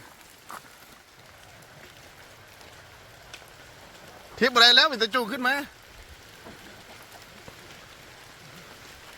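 Steady rain patters on surfaces throughout, a broad continuous hiss, while a person speaks briefly in the middle.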